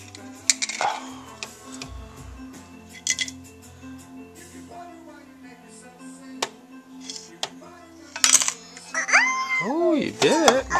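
A child drops ingredients into a toy cooking pot, making light clinks and clatters of small plastic and metal pieces, scattered and close, with bursts of chatter and a high-pitched voice near the end.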